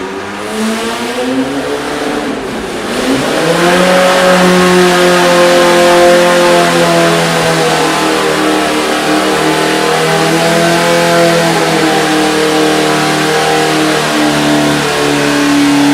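EMPI VW engine on a dyno pull at an engine battle: a loud, close air-cooled engine roars as revs climb steadily, then holds a high, raspy, sustained wail for many seconds.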